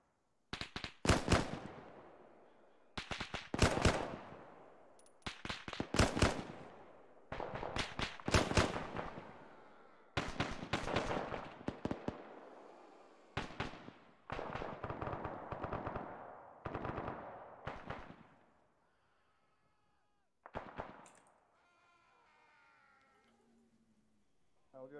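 Video game gunfire: loud, close bursts of rapid automatic fire come in repeated volleys separated by short gaps, then thin out into scattered quieter shots near the end.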